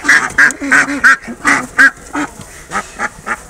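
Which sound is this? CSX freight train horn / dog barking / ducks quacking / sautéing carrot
ducks quacking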